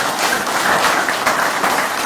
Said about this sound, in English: Can we give a big round of applause to welcome our Honorable Minister